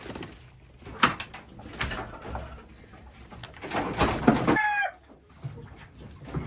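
Chickens cluck and squawk intermittently nearby, with a rising crow-like call near the end, over outdoor background noise.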